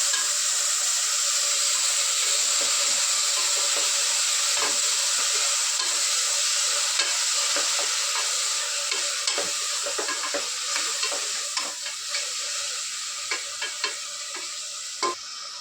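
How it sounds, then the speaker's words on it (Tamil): Onions sauté in hot oil in a pan for a chicken kulambu, giving a constant bright sizzle with occasional scraping strokes of a spoon, which grow more frequent toward the end. "உங்களுக்கு தேவையான அளவுக்கு வெங்காயம் போட்டுக்கலாம். இப்போ வதக்கிக்கலாம்."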